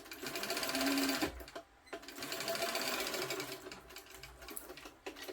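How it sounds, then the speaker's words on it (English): A sewing machine stitches closed the bottom of a fabric bag, running in steady rapid bursts with short pauses between runs, close and fairly quiet. "You then stitch close the bottom."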